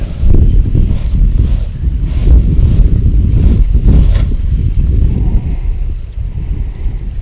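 Strong wind gusts across a mountain lake, buffeting loudly and continuously with a low rumbling roar against the microphone.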